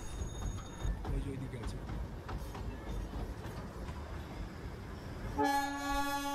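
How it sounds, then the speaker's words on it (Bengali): The Darjeeling toy train's diesel locomotive pulls away amid a rumbling crowd of onlookers, then gives a sustained horn blast near the end. "প্রথমে এই আমাদের ডিজেলটা ছেড়ে দিল"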